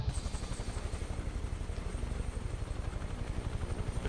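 A UH-1H Huey helicopter in Microsoft Flight Simulator, its rotor producing a steady, rapid low thumping over a continuous engine whine, even and unbroken throughout with no talking.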